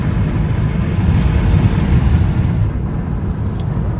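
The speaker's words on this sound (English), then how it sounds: "Hear that wind noise?" Broadband wind roar inside a Tesla Cybertruck at highway speed, rushing through a leaking window seal; steady and loud throughout, thinning slightly near the end, with no talk over it.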